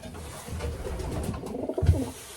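Racing pigeons coo in low, soft throaty bursts, with the loudest coo near the end of a short stretch and faint background rustle.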